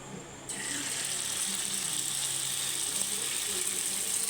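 Spoonfuls of batter made from fried rice drop into hot oil in a frying pan for pakoras, and a steady, bright frying hiss starts abruptly and continues without a break.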